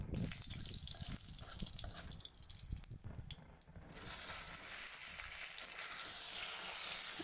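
Pieces of taro frying in mustard oil with a dried red chilli and radhuni seeds, a soft steady sizzle with a brief stir partway through, quiet and close with no talking.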